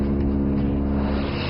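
A Canadair 415 firefighting water bomber flies past with a loud, steady engine roar and propeller drone, holding constant throughout with no voices.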